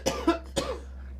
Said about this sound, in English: And when she starts coughing